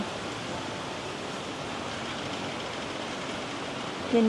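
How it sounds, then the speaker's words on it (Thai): A waterfall at a campsite in Khao Yai, Pak Chong, gives a steady, even rush of falling water that stays constant and fairly soft throughout, with no voices. "เย็นๆนะฟังเสียงน้ำตกไป"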